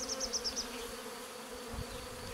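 Honeybees from a swarm hum as they climb onto a hive frame, a steady close buzzing drone with a few higher wingbeat whines at the start, no voices.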